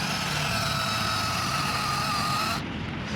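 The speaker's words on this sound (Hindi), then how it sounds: "ट्रैक्टर काफ़ी ज़्यादा पावर दिखानी पड़ रही है, फिर भी उधर का टायर स्लिप मार गया" A New Holland tractor engine strains hard in a field as a tire slips, a loud steady droning roar with a harsh high whine, easing slightly near the end.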